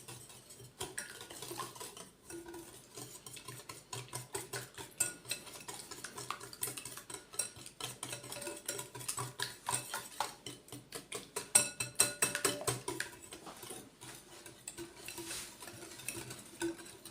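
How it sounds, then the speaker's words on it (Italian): Fruit being stirred into madeleine batter in a bowl, a steady run of soft scraping and clinking utensil strokes close by for the whole stretch, with no talk. "Poi prendiamo la nostra frutta e iniziamo a mescolare."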